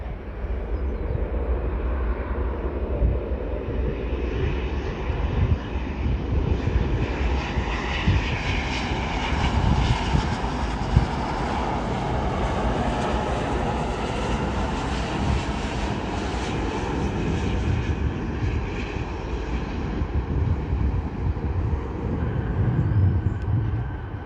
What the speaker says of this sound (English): There we have an Airbus A350-941 from Lufthansa Flight 2, probably coming from MUC Munich.